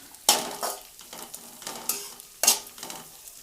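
Ginger garlic paste fries in a pan for jeera rice, crackling and sizzling close up, with two sharp bursts of spatter and stirring scrapes between quieter stretches of hiss.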